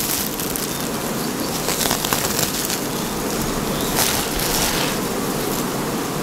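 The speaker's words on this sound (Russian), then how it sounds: "16-рамочный улей, полный улей пчелы" Honeybees buzzing densely in a full sixteen-frame hive, a steady close, continuous hum with a bright hissing texture and no pauses.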